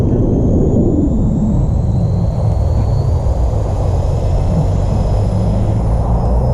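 Ikarus Eco-8 RC helicopter climbing away after an autorotation landing, a loud steady rotor and motor roar with broad rumbling noise, close and continuous.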